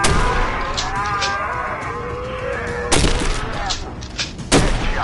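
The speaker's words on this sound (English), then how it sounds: "Alright, shotgun. This is the M870." Shotgun blasts from an M870 pump-action in a PS4 shooting game: two sharp, loud booms about a second and a half apart, each with a short tail, over a steady bed of game ambience.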